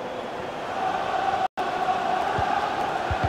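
A football stadium crowd in the FIFA 20 video game, at a Liverpool versus Chelsea Premier League match, hums as a steady, dense roar throughout, broken by one brief dropout to silence.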